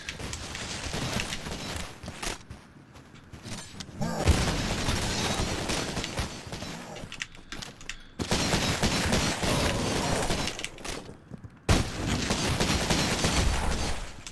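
Repeated gunfire and booming blasts in a Doom mod shooter, loud bursts packed densely across the stretch with brief drop-outs between volleys.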